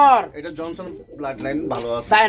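Johnson-bloodline racing pigeons at a sale coo close by, their calls mixed in with loud nearby talking that dominates the short stretch.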